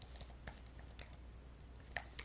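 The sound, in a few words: typing on a computer keyboard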